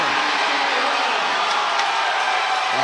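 A steady crowd roar fills the arena during an NAIA men's volleyball championship semifinal, with a couple of faint sharp knocks mixed into the constant din.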